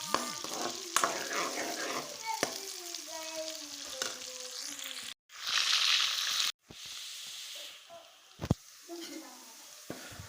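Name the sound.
onions frying in a pan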